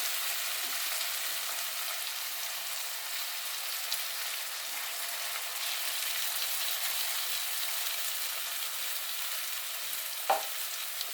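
Slices of yam (senai kizhangu) fry in oil in a pan, making an even, close sizzling hiss that barely changes over the whole stretch. A single sharp clink near the end breaks it.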